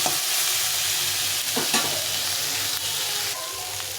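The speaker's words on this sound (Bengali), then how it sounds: "এটা একটু নাড়াচাড়া করে বেশ কিছুক্ষণ ধরে ভেজে নিতে হবে" Boiled chickpeas stirred and fried in a pan give a steady, close sizzle with a few scraping strokes of the spoon, running alone throughout.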